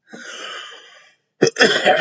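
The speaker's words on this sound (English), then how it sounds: "Sorry about the cough." A long breathy rasp, a short pause, then a sharp, close cough burst followed by a rougher second cough.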